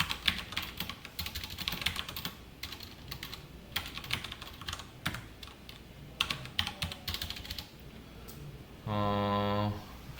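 Python code being typed on a computer keyboard during a lesson on dictionaries produces close, rapid, uneven key clicks in bursts, followed near the end by a brief steady electronic tone.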